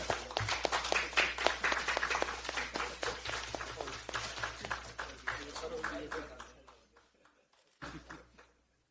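Applause from a crowd at a Democratic Party of Korea political event, dense rapid clapping that fades out, then a brief final burst of claps.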